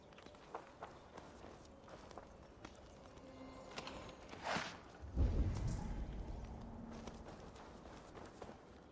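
Horse hooves clop in Assassin's Creed Valhalla, quiet irregular footfalls at a distance, with a louder low rumble and thump swelling partway through before settling back to soft ambient sound.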